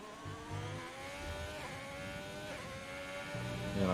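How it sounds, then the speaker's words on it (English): A Ferrari Formula 1 car in a racing game drives through the opening corners of the Russian Grand Prix, its high engine whine rising and falling through downshifts and upshifts, steady and fairly faint. "Rear wing now wide open on that Ferrari as we come through, tapping down through turn 1."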